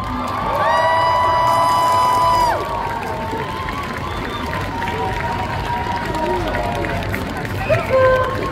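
A festival crowd at Japan Tours Festival cheers and whoops over loud music, with screams and shouts rising together. Later, near the end, there is a brief burst of crowd noise.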